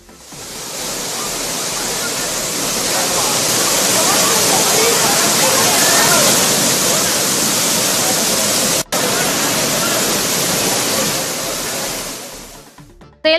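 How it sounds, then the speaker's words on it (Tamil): Thiruparappu waterfall roaring in full spate after two days of heavy rain, a loud, steady broadband rush of falling water that holds constant throughout, with one brief dropout near the end. "கடந்த 2 நாட்களாக பெய்த கனமழையால் அருவியில் ஆர்ப்பரித்து கொட்டிய தண்ணீரில் சுற்றுலா பயணிகள் குளித்து மகிழ்ந்தனர்."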